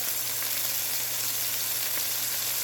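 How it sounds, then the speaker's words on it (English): Chicken thighs and onions saute in a pan with a steady, close, even sizzle and hiss that keeps going without a break, no voices over it. "right now I have a few chicken thighs. Sauteing with some onions"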